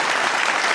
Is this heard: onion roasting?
no